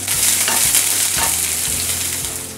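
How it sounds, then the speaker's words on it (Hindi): Long-sliced onions sauté in hot oil in a pan for poha, a steady loud sizzle with periodic low knocks of a spoon stirring against the pan and no voices. "प्याज डाल देते हैं ये हमने ऐसे लंबे लंबे काटे हुए हैं मिक्स कर देंगे जस्ट एक दो मिनट हमने प्याज को ऐसे सौते कर लेना"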